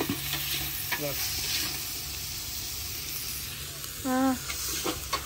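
Onions fry with salt in a pan on a stove, giving a steady close sizzle with occasional stirring scrapes and a brief voice near the end.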